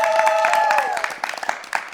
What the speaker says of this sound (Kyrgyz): Бир туугандар, бир кол чаап коюңуздарчы кана